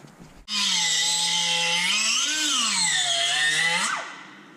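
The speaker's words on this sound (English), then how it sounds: "So we're gonna take a little grinder and we're gonna try to grind it down some." A small grinder working on a Nissan 370z steering part, one continuous high-pitched whine lasting over three seconds, its pitch dipping and rising as the load changes before spinning down, close and alone.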